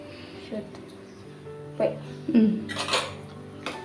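A spoon scrapes and clinks against a metal pot as prasadam with cardamom is stirred, giving a few sharp, close knocks and rattles between quiet gaps, while someone talks over them.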